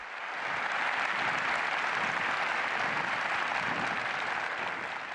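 A large arena crowd at a rhythmic gymnastics tournament in Japan gives a sustained, dense ovation, a steady roar of many hands clapping at a distance, swelling in after a brief quiet start and holding level.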